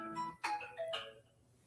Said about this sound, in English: My phone is telling me that I'm 10 minutes, and then I got a few people texting me